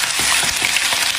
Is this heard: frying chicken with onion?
yes